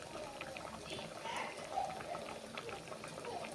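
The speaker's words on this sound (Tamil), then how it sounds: "பாருங்கள், நல்லா கொதி வந்துருச்சு." A pot of horse gram dish simmers at a faint, steady boil, with soft bubbling and gentle liquid burbles throughout.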